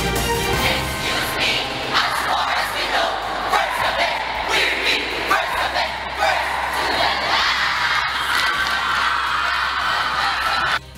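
University of the Philippines Visayas students performing at an annual cheering competition: a loud, continuous roar of crowd shouting and chanting that swells in bursts across the whole stretch, with voices over it.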